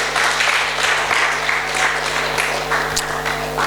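Congregation clapping hands at a church sermon, a steady dense wash of applause filling the space with a constant low hum underneath, loud and continuous throughout.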